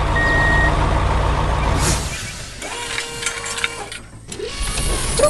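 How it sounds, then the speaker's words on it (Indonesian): A red truck rumbles along slowly through a sugarcane farm field, with a rhythmic reversing beep at first, then mechanical clanks and a brief hiss like an air brake. "Truk merah berjalan perlahan di tengah ladang hijau."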